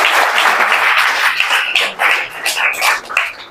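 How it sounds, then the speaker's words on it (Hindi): Audience applause for a student in a classroom gathering, a dense wash of many hands clapping steadily at close range, swelling and dipping slightly through to the end. "ताली तो बजा दो"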